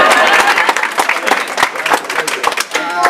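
A crowd applauds at a rap battle, loud close clapping with cheers and voices mixed through it.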